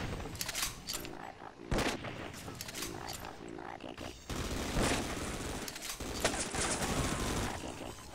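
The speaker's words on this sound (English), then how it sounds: "I'm being shot through the floor" Rapid bursts of gunfire crackle through a firefight in the video game Half-Life: Sven Co-op, coming in repeated volleys at fairly low level, with a voice cutting in between shots.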